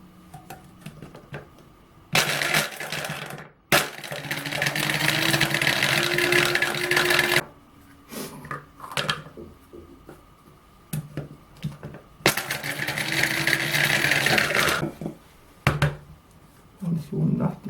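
A coffee grinder crushes whole nutmegs in two loud, rattling bursts of a few seconds each, close up, with quieter clicks and handling noises between them.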